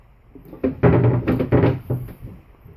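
Wooden door of a custom-built gun safe, sized for one rifle or shotgun, opening aboard a Searunner 31 sailboat: a close series of dull thumps, knocks and rattles over about two seconds, with no speech.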